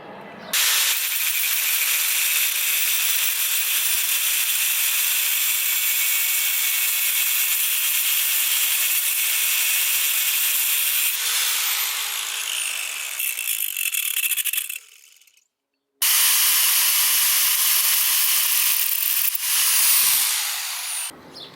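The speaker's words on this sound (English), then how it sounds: "I'm going to use an angle grinder, and sort of like this in ice carving" An angle grinder carves a toothbrush held in a vise, a loud sustained high-pitched whine with harsh grinding that shifts pitch, cuts out briefly, then starts up again.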